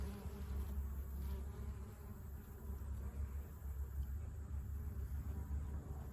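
Bees buzz steadily as they forage on flowering garlic chives, a continuous close insect drone with no voices.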